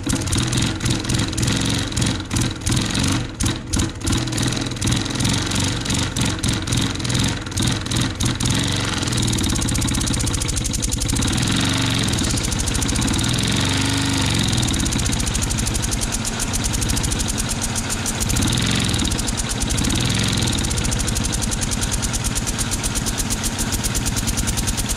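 A small homemade wobbler engine runs with a fast, buzzing mechanical chatter. It steadies into a continuous high-revving whir with slight fluctuations in speed, close and loud, with no talking.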